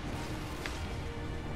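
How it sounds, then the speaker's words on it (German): Explosion in the Halo Reach video game during co-op play, a brief dull burst partly buried in a steady wash of game noise. "Explosion!"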